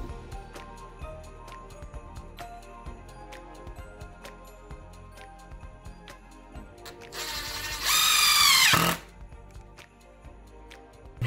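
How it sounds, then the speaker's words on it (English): A power drill drives a screw into the back of a wooden home decor piece, a loud one-second whirring burst near the end after scattered light ticks and taps. "Now I'm going to add a screw in the back for just additional support."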